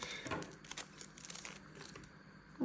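Plastic wrapping on a gift package crinkles and rustles as it is opened, quiet close-up handling sounds with small crackling bursts and a louder crunch at the end.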